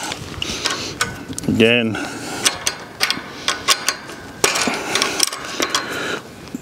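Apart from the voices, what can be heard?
fence joint clamp being tightened with a shifter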